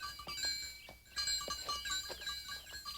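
Several goats bleat in short, scattered calls over a faint background of tinkling bells, fairly close and quiet, in a cartoon mountain pasture.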